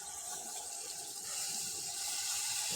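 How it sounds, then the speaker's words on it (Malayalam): Water is poured into a simmering home-cooked curry with curry leaves, giving a steady, close splashing trickle that grows a little fuller toward the end, with no voices. "കുറച്ചുകൂടി വെള്ളം ഒഴിച്ച് കൊടുക്കുക"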